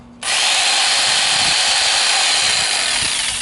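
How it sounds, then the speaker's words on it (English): A power jigsaw cuts into a knife sharpener, starting abruptly and then running as a loud, steady high-pitched buzzing whine for about three seconds. "can we jigsaw that bad boy?"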